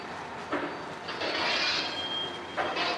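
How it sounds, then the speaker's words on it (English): A long coal train rolls along in a train simulator game, a steady low rumble of wagons with recurring swells of hissing, rushing rail noise, moderately loud and without talk. "Nice long coal train."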